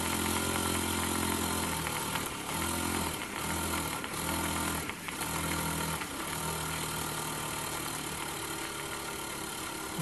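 Model steam engine run on steam from a cheap steam cleaner, a steady chugging and hissing drone with rhythmic pulsing beats and short breaks, continuous and close with no talk.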